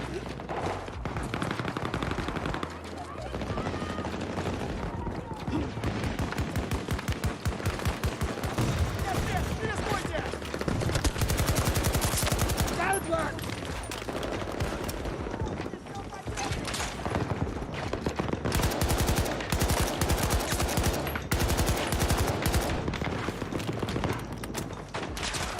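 Sentry guns fire in the video game Battlefield 2042, a dense, loud stream of rapid automatic gunfire and clattering battle effects that keeps going with few gaps.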